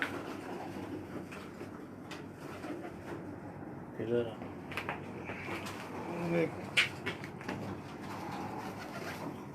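A breeder pigeon held in someone's hand gives a couple of soft, low coos over a steady background hum while people talk nearby.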